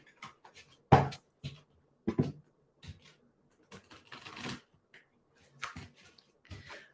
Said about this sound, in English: I just need to give the cards a bit of a better shuffle